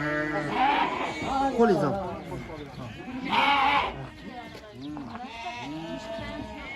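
Sheep held by hand during a shepherds' working day in Uzbekistan let out several loud, wavering bleats in bursts, close by, while people talk over and between them.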